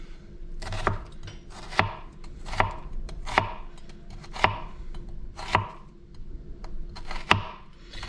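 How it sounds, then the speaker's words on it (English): A knife slices a red onion into thin julienne strips on a cutting board, giving a steady series of crisp, evenly spaced chops, about one per second, close and clear over a faint room hum. "The onions need at least half an hour. So I'm going to julienne them."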